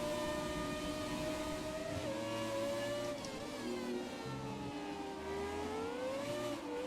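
An F1 car engine in F1 2017 at the China circuit, a steady high whine that dips and climbs as gears shift, running continuously at low volume.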